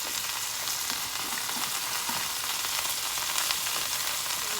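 Mushrooms frying in a hot pan for shrimp lo mein, giving a steady, close sizzle that holds unbroken throughout with no voices.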